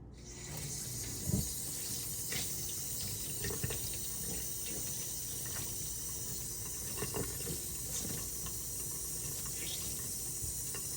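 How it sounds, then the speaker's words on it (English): Steady running water from a tap splashes continuously, with a few soft squishing bursts as a makeup sponge is rinsed and squeezed under the stream. "And just keep rinsing it till the water comes out clear."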